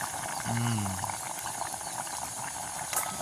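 A pot of village-style food with dried fish boiling, a soft continuous bubbling and hiss at moderate distance, with a brief voice near the start.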